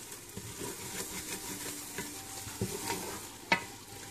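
Egg cooks in a pan while making chicken pastilla, a faint continuous sizzle under intermittent stirring taps and one sharp utensil knock near the end, with no voices.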